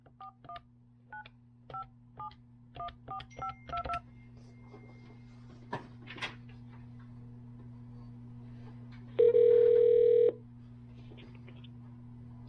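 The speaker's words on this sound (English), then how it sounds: "So to call out from the system, you just dial the phone number." A run of DTMF keypad tones from an office phone system dialing an outside number: about a dozen short, evenly spaced beeps, then a longer steady tone after a pause, over a constant low electrical hum, with no talking.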